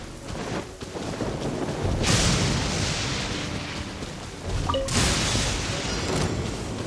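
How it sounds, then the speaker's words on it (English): Rain and thunder in Genshin Impact: steady rainfall hisses throughout while two heavy rumbling thunderclaps roll through, each swelling loudly and then easing back into the rain. "It's raining."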